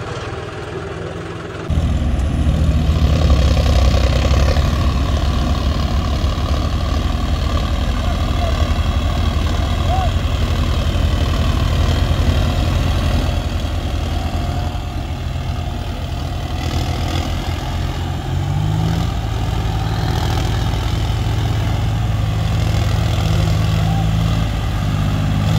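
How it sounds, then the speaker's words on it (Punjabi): A tractor engine runs steadily at a farm, a loud continuous low rumble that shifts pitch slightly partway through, with someone talking over it. "ਉਹ ਦੇਖੋ ਥੱਲੇ ਚੱਲਦੀ ਆ ਮਸ਼ੀਨ ਉਹ ਟੋਏ ਚਲਾਏ ਹੋਏ ਨੇ ਟਰੈਕਟਰ ਉਹ ਚੱਲਦੀ ਆ"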